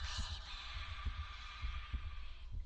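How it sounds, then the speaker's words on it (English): Heartbeat sound effect in a horror video game: a faint, steady, low double-thump pulse repeating about every half second beneath a quiet hissing ambient bed. "you can hear that creepy heartbeat sound"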